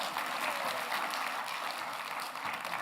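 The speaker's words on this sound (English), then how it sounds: "round of applause for Egbert" Audience applause at an engineering open house event, a dense steady wash of clapping from a crowd throughout, fairly distant and even.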